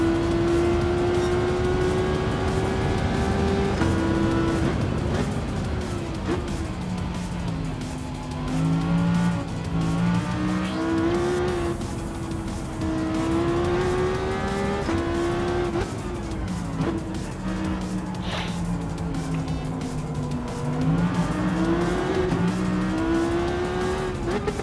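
A race car engine in Gran Turismo 7 on PS5 at Trial Mountain roars loudly, climbing and dropping through gear changes again and again. Tires squeal through the corners, and no one talks.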